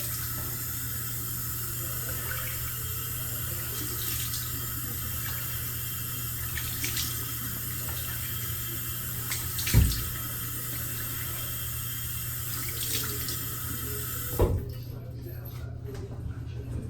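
Tap water runs steadily from a sink faucet for a man rinsing his face after a wet shave with a Gillette Skinguard razor, a constant close hiss broken by a couple of soft splashes before the flow cuts off near the end.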